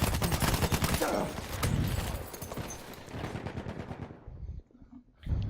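SMG 08/18 submachine gun in Battlefield 1 rattles off rapid, dense automatic bursts at close range, loud and continuous before tapering into a few final shots.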